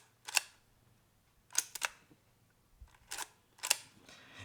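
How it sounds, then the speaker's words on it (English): A Voigtlander Vitessa L camera's combi-plunger is pressed to advance the film and cock the shutter, producing a handful of sharp, close mechanical clicks in irregular pairs against near silence. "to advance the film and cock the shutter, one press of the combi-plunger is all it takes"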